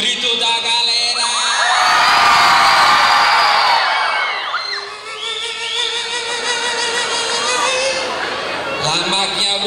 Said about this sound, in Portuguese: Cadê o grito da galera?